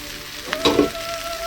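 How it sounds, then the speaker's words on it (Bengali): Soaked soybeans sizzle and fry with potatoes in a pan as they are stirred, a steady close crackle with a short burst of stirring noise in the middle and no talking. "সয়াবিনগুলো দিয়ে ঠিক আমি একইভাবে কষিয়ে নেবো ওর সঙ্গে ভালো করে।"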